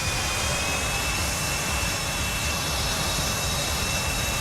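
A fighter jet engine in the FlightGear simulator roars steadily and loudly on a carrier deck at Ascension Island before launch, a constant broadband blast with a thin high whine and no voices.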